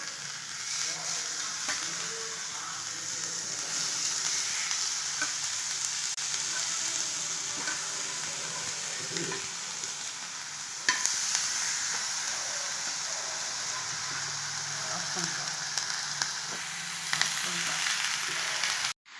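Mini onion carrot dosas fry on a pan with a steady, continuous sizzle and crackle, fairly close and even in loudness throughout, with no talking.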